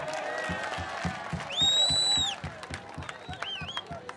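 An audience claps loudly in rhythmic unison, with whistles and cheers rising over the beat and voices mixed in.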